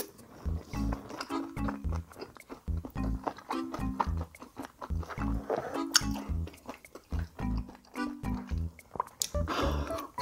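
Someone chews lettuce wraps of thin-sliced pork belly and beef brisket close to the mic, producing moist, squishy bites and smacking in a steady rhythm with no talk.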